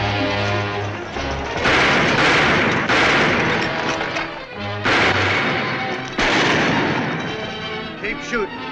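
Heavy gunfire in a Western shootout, bursts of repeated loud shots and booming blasts over several seconds, close and dense with brief pauses between volleys.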